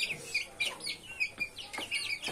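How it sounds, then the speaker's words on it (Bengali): Chicks and a rooster cluck close by in a run of short, high chirps and cheeps, repeated in quick, uneven bursts. "এটা মুরগি বাচ্চা, এটা মোরগ।"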